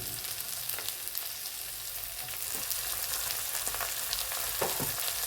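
Onions sizzle steadily in hot oil with slit green chilies and chopped tomatoes, for a chicken ghugni. The frying hiss is continuous and close, with a few soft stirring knocks and no talking.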